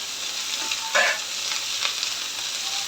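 Ginger and garlic sauté in a hot pan with salt, a bright steady sizzle punctuated by a few scraping stirs of a spoon, close and alone with no voices.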